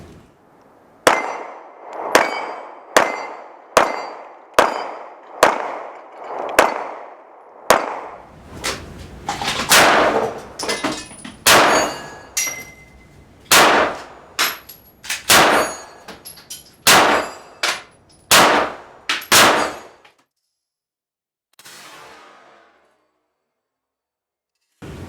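A Smith & Wesson M&P Shield Performance Center pistol firing about eighteen loud, sharp shots in steady succession, with a few seconds of quiet between strings, then a faint rustle near the end.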